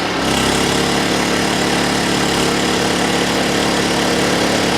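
Champion 2000-watt inverter generator running under load, its steady loud engine drone filling the whole stretch with a slight rise in revs as it takes the load, no voices over it.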